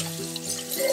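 A kitchen scrubber rinsed under a running tap, with a steady rush of water splashing in a sink, moderately loud and continuous for under a second, with no talk.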